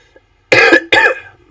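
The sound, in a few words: cough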